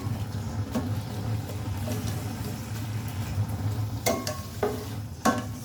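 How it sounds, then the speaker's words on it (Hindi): Onions frying over fairly high flame toward golden brown, a steady low sizzle throughout with a few sharp clinks of a utensil against the pan near the end. "प्याज को अच्छे से फ्लेम थोड़ा सा हाई करेंगे और इसको गोल्डन ब्राउन कर लेंगे"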